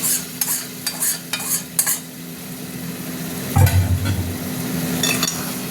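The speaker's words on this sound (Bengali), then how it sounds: "চিংড়ি মাছটা দিয়ে আবার কষবো" Prawns sautéed and stirred into spiced masala in a pan, giving steady sizzling frying with a few sharp utensil scrapes early on and a louder burst of stirring midway, close and without talk.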